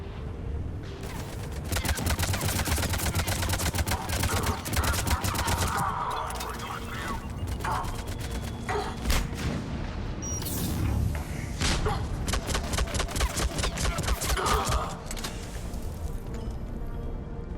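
A grenade blast and bursts of rapid gunfire fill a Mass Effect 3 firefight on Insanity difficulty, loud and dense, with thuds and cracks overlapping throughout over a continuous game soundscape.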